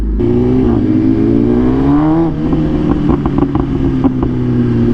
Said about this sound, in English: The backfires. The pops.